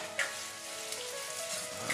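Food frying in a pan while an avalakki dish is cooked, with a close, continuous hiss and crackle of hot oil holding steady for about two seconds.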